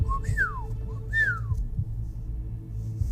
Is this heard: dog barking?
no